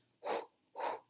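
A voice imitating Lamaze childbirth breathing makes two short, forceful breaths about half a second apart, close and fairly quiet.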